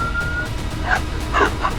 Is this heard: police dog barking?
yes